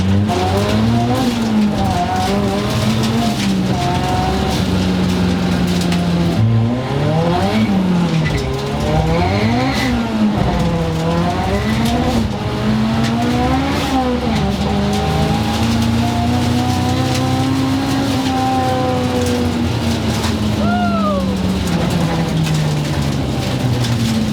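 Rear-wheel-drive Honda Civic making 515 horsepower, its engine roaring loud and close with repeated rising revs and gear-change dips as the wheels spin, a sustained strained howl running throughout.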